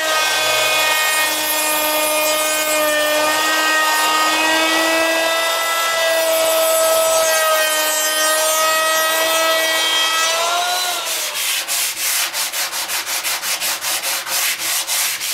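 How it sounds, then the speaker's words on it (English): A long, high whining drone gives way to quick, rhythmic back-and-forth scraping strokes as the wooden drawer bottom of a vintage chest of drawers is hand sanded nearby with a sanding block. "hand sand it with a sanding block"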